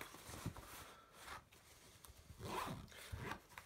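A quiet zipper on a large trouser pocket is pulled several times in short rasping strokes, close up and otherwise alone.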